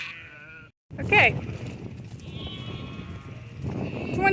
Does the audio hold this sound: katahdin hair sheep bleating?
yes